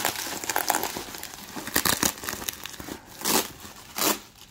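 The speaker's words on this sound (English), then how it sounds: "I'm gonna unwrap all this bubble wrap and see what's inside" Bubble wrap is pulled off items from an artist's mystery box, giving close, loud crinkling and rustling in uneven bursts, with swells of plastic crackle and brief pauses between handfuls.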